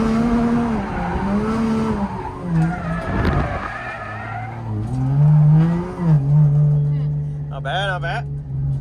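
A Japanese drift car slides with its tires squealing over a revving engine, loud and close, with the pitch rising and falling through the skid and a brief voice near the end.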